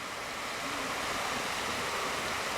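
Upper Calf Creek Falls in Escalante, Utah, in late-February winter with snow around, a continuous broadband roar of falling water heard close and steady throughout.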